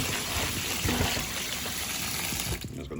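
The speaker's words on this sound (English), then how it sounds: "let's go ahead and start washing our sorrel" Cold tap water runs steadily over sorrel being washed in a kitchen, a close, loud splashing stream that continues throughout and eases slightly near the end.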